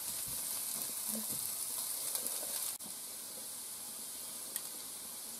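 Food sizzles steadily in a hot pan with tomato paste added, a continuous crackling hiss with a few soft stirring knocks and one sharper clack.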